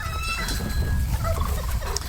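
Chickens held in baskets, ready to be auctioned, cluck and cackle continuously at close range, with overlapping fowl calls over a low rumbling background.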